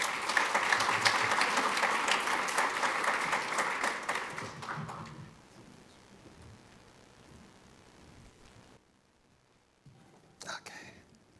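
An audience at a cybersecurity keynote claps steadily to welcome speaker Stuart Madnick; the dense applause lasts about five seconds, then thins and fades into near quiet before a brief shuffle.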